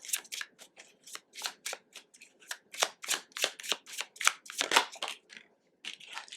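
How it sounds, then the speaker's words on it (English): Oracle cards being shuffled by hand, a quick papery riffling in repeated short bursts of steady rhythm, close and crisp, with a brief pause near the end and no talking. "let's just pull some oracle cards"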